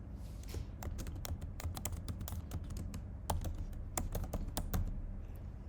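Close, quick typing on a computer keyboard, a fast irregular run of crisp key clicks over a steady low background hum, with no talking.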